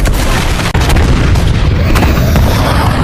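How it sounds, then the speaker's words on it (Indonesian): Ship's cannons fire at a giant Kraken's tentacles at sea, a dense, loud wall of booming rumble that runs continuously, broken only by a brief dip in the barrage. "William pun memerintahkan untuk menembak tentakel-tentakel itu dengan meriam."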